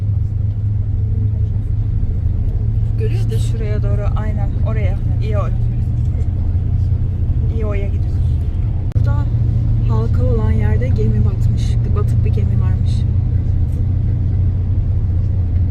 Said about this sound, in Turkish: şu anda otobüsle tırmanıyoruz yukarıya